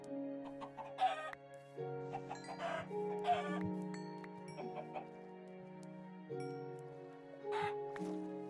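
Chickens cluck and squawk in short bursts inside the Minecraft video game, layered over a steady, tonal game music bed with no one talking.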